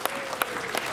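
An audience claps for honored guests at a yoga event, a brief dense burst of applause from a crowd, moderately loud and steady.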